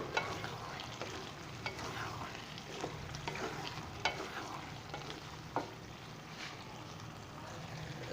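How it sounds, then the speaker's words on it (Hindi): Dal chana and chopped gourd roast in a pan, a soft continuous sizzle with scattered scraping stir clicks from a spoon, fairly quiet and steady throughout. "अभी मैंने इसको अच्छे से भून लिया है दाल चना को मिक्स करके"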